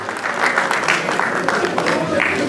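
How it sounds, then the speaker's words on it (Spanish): Audience applause at a civic recognition ceremony in Chincha, Peru, honoring a local athlete; steady, dense clapping fills the space without pause, with a voice briefly audible over it. "Fuertes aplausos para este gran deportista de Chincha,"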